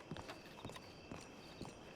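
Horse hooves clip-clop at a steady walking rhythm in The Tales of Deputy Marshal Tyrell, with each soft hoofbeat fairly distant beneath a constant background hiss.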